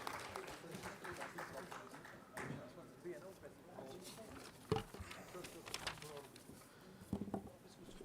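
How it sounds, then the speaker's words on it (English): Audience applause at the grand finale of a quiz for lawyers, faint and distant clapping patter mixed with murmuring voices in a hall. "So a round of applause for everyone who has shown up today to make this event a success"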